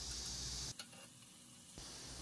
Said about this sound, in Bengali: এবার আমি এর মধ্যে কুচিয়ে রাখা পেঁয়াজটা অ্যাড করে দিচ্ছি